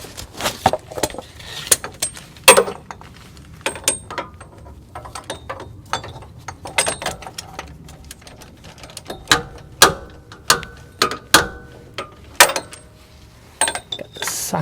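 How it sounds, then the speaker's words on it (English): Ratchet turning a socket on an engine bolt while working on the oil filter adapter of a GM K truck's 6.5L diesel, heard as scattered close clicks and metallic knocks with rustling tool handling throughout. "see if we can get our other hand on the ratchet."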